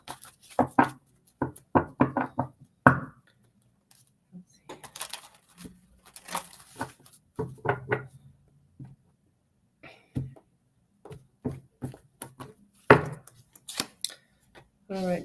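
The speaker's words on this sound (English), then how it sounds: "One more shuffle." Tarot cards shuffled by hand in short crisp bursts of riffling and tapping, separated by pauses, close and fairly quiet.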